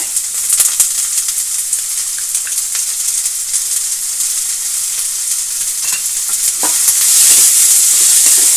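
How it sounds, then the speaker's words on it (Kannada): Onions and green chillies fry in oil with a bright, continuous sizzle and hiss, punctuated by occasional stirring scrapes; the frying grows louder toward the end, close up and with no voices. "ನೀರುಳ್ಳಿ ಎಲ್ಲ ಎಣ್ಣೆಯಲ್ಲೇ ಚೆನ್ನಾಗಿ ಫ್ರೈ ಆಗಬೇಕು"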